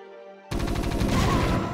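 Rapid gunfire bursts out in the StarCraft video game, a dense rattling volley that starts abruptly after a quiet moment and keeps up loud to the end.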